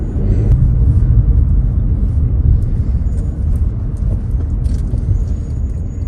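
A car rolls through light traffic on McPhilip near EDSA, giving off a steady, close low road rumble and engine drone from inside the cabin with no talking.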